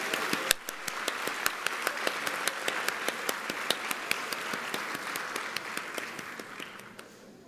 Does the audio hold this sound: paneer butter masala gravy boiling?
no